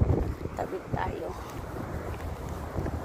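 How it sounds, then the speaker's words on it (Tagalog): Early-morning wind blows outdoors near a bus stop, gusty low buffeting against the microphone with rumbling surges, with a voice speaking over it. "Mahangin naman kasi maaga pa."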